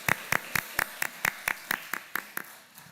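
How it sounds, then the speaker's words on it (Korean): A church congregation claps in slow unison during Easter Sunday service announcements, about a dozen distinct, evenly spaced claps that fade slightly toward the end. "한번 박수해 주시면 고맙겠습니다"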